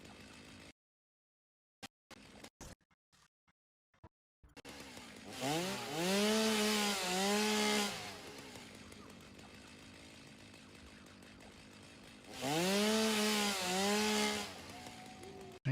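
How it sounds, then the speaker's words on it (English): A chainsaw cutting down trees outdoors, its engine revving in two loud sustained bursts with rising and falling pitch, separated by a lower idle, after a few brief clicks and near silence at the start. "Chainsaw is live."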